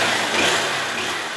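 A Honda Fan 160 motorcycle engine idles briefly with a rough, steady mechanical drone, recorded close while checking for valve rocker noise.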